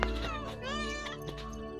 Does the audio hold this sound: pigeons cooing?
no